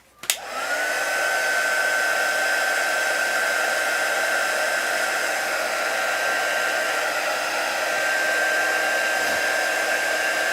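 A hair dryer is switched on with a click and blows steadily to dry paint, producing a loud, close, continuous whooshing whine that holds at a constant pitch throughout, with no talking.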